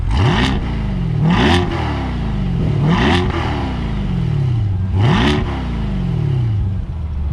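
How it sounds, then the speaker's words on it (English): A Chevrolet Corvette C8 revs its exhaust repeatedly, each blip rising sharply and falling back to a deep idle rumble, four or five revs in a steady rhythm, loud and close. "let's get in there and see how it sounds on the camera to rev the exhaust."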